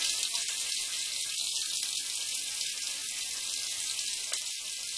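Tap water pours steadily over the plastic head of a WWE CM Punk action figure to soften it, giving a continuous bright hiss and splash with no talking.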